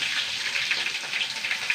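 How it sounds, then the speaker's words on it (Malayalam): Mustard seeds and dried chilli frying in hot coconut oil, a dense, bright, steady sizzle with faint crackles, close by. "കടുക് ഇട്ട് കൊടുക്കാം."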